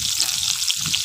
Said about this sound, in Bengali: এইবার এগুলো তেলের মধ্যে দিয়ে দেবো, দিয়ে ভেজে নেব